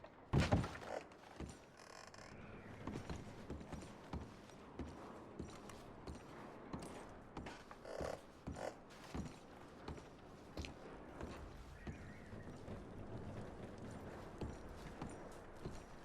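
Faint, uneven clopping of horse hooves on hard ground in Red Dead Redemption 2, with a few soft thuds and shuffling movement in a quiet setting.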